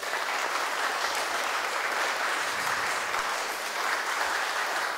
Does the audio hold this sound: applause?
yes